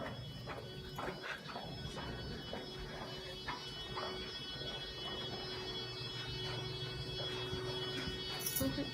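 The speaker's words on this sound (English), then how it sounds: "Oh, I know what it is. That's the fire alarm panel." A hotel fire alarm panel buzzes in a steady, continuous drone at a lodge, with faint clicks and taps around it.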